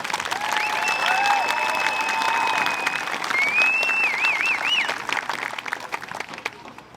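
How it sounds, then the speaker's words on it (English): Audience applause rings out steadily at a high school commencement honoring the graduating class of 2025, a dense, continuous clapping crowd that holds for several seconds before gradually thinning out. "let's give a round of applause to the class of 2025"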